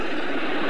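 French-made Super Puma heavy helicopter flying at the 1997 Sion airshow: a loud, continuous broadband engine and rotor roar held steady through the short moment, with no talk over it.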